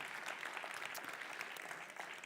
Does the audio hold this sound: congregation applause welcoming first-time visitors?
yes